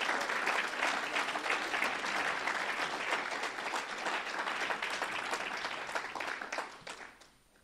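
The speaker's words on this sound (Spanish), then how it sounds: "Un fuerte aplauso a Cristo." A church congregation applauds during a Sunday sermon on the resurrection, a dense, steady wash of many hands clapping that stays loud for several seconds, then thins and fades away at the end.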